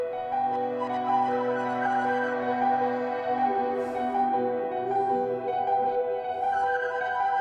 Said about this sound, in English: So I went on Splice and I found this violin sample.